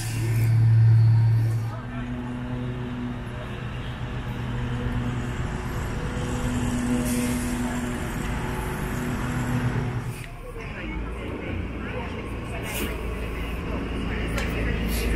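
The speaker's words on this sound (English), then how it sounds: "Here we go, on the bus." Steady engine rumble and road noise ride inside a Disney World bus, a continuous low drone with a brief louder swell near the start and a voice talking over it.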